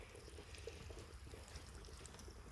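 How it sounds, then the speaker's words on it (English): Water overflowing from a pool being filled on a farm, a faint steady pouring trickle with a low continuous rush, heard alone at a quiet level. "Oh, water's overflowing."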